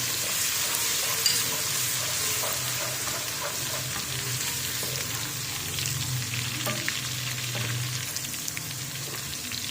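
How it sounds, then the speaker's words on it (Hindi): Steady, close sizzling of onions frying with garlic-ginger paste in a hot pan, with occasional scraping stirs, continuous throughout and no talking. "थोड़ा सा फ्राई करना है इसको"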